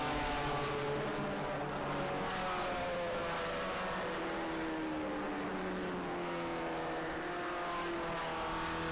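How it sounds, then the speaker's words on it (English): GT race cars at Road Atlanta accelerate hard together at a restart, a sustained roar of multiple revving engines at distance, steady and layered without a break. "Green flag and we're racing"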